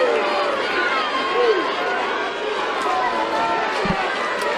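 Crowd at an NCAA Super Regional softball game between Oklahoma and Alabama reacting to a home plate umpire's call, a broad sustained roar of many voices filling the stadium at steady loudness.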